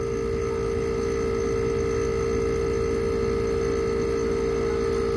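A running compressor on a split-type aircon unit with a P4 error gives off a steady, loud electrical hum with a constant tonal drone and no variation, alone without speech.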